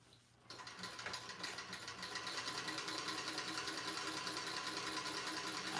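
A sewing machine runs in a quick steady stitching rhythm, starting after a brief pause and continuing close and moderately loud without talk.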